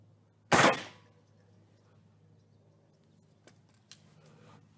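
A single sharp crack from a Benjamin 392 pellet gun fired outdoors, loud and close, decaying quickly into quiet with faint faraway ticks afterward.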